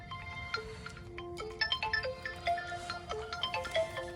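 A phone plays a ringtone at home: a chiming, melodic tune of repeated notes with a quicker cluster in the middle, moderately quiet and steady, with no voices over it.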